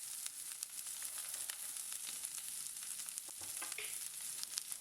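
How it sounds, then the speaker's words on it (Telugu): Chopped onions, curry leaves and green chilies fry in hot oil for lemon rice, giving a faint, steady crackling sizzle with small pops throughout and no voices. "అందులో తరిగి పెట్టిన ఉల్లిపాయ ముక్కలు, కరివేపాకులు, పచ్చిమిర్చి ముక్కలు వేసి వాటిని బాగా వేయించుకోవాలి"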